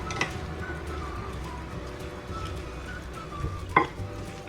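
Chutney is stirred into dahi in a bowl for dahi phulki, a soft, quiet scraping and mixing sound with a sharper clink of the spoon against the bowl near the end.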